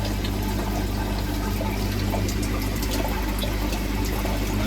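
A pond pump runs steadily, pushing water out to waste during winter shutdown of a grow-on pond, a constant loud hum with rushing water and no voices.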